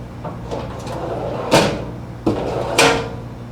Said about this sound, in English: Same basic box, except it's got ball bearing slides.